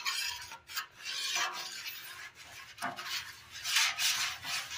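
A metal spatula scrapes across a dirty, rusted Blackstone griddle surface in repeated rasping strokes, close and fairly quiet with short pauses between passes.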